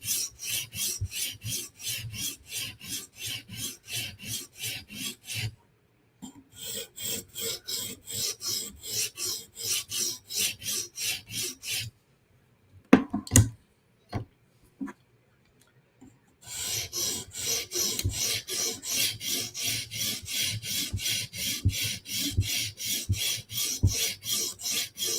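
Yojimbo knife blade worked on a TSProf Kadet sharpener, rapid rhythmic rasping strokes in long close bursts, broken by pauses and a few sharp clicks.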